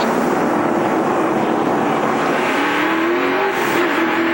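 NASCAR race cars crashing and spinning during a big pileup at Phoenix in 2006 produce a continuous loud roar of engines with tire squeal, dense and steady throughout, with no talk.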